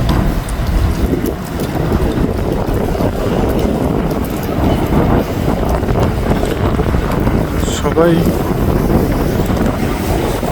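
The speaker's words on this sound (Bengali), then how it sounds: "আর এখানে অবশ্য প্রচুর বাতাসও দিচ্ছে" Strong wind gusts through a snowy, slushy street in Virginia, a loud constant rumbling roar buffeting the microphone with a brief voice heard faintly beneath it.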